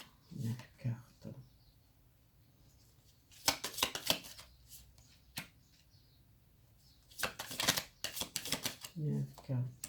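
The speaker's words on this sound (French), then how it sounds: "je tire 9 cartes pour les jumeaux." Tarot cards give repeated bursts of crisp, papery shuffling and snapping as they are mixed and drawn, close up, with someone speaking French between and over the bursts.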